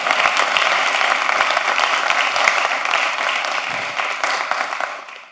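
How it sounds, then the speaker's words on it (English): Applause from the audience fills a scholarship program press conference in Miami, a dense, sustained clapping that stays loud for several seconds before thinning out and fading at the end. "You can clap for that."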